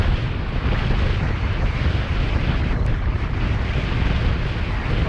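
A strong headwind roars across the microphone while riding uphill, a loud, steady, low buffeting rush that fills the whole stretch without a break.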